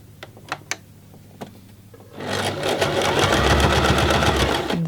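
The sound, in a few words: sewing machine sewing a tote bag strap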